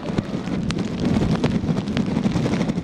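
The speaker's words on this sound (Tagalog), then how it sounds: "Malakas na ang hangin at pabugso-bugso na ang ulan ngayong gabi" Strong wind roars and buffets the microphone in heavy gusts during a storm at night in Ilocos Norte, a rough, continuous rumble with no voices.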